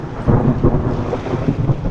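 Thunder rumbling after lightning over a river during a rainstorm, a low continuous rolling roar with rain hiss, no voices.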